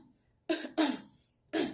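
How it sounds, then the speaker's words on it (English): A person coughs three times in quick, harsh bursts close to the microphone, the first two nearly back to back and the third after a short pause, with near silence in between. "so I'm coughing, gasping for air"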